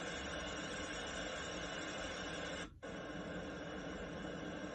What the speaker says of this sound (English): That one sounds almost like an air conditioner or a fan.